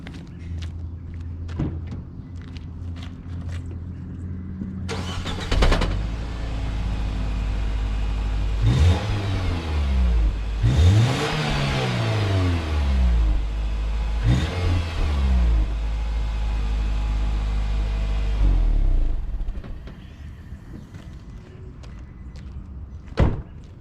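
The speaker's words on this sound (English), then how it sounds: "Stock exhaust system on a 2-liter Nissan Sentra." A 2-liter Nissan Sentra engine with stock exhaust idles, then revs up loudly several times with rising and falling pitch before settling back, heard close and alone.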